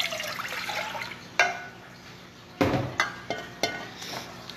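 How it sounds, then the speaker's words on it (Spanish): Water is poured into a small saucepan for making syrup, a splashing, running gush at the start followed by a few sharp clinks and knocks of the pan, close and fairly quiet. "Van a vertir el agua."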